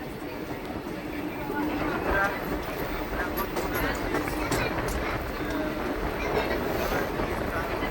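The Santragachi–Digha fast passenger train rolls onto the Kolaghat rail bridge over the Rupnarayan river, a steady rumble of wheels with faint clatter, while a voice talks over it the whole time.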